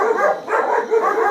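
A dog at a home where a king cobra had entered gives two or three short, close barks in quick succession, loud and with no voices over them.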